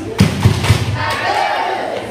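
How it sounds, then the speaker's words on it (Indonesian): An audience performs the rhythmic "tepuk bagus" clap at a parenting seminar, a few loud, close, patterned claps up front, followed by a murmuring crowd. "Kita berikan tepuk bagus."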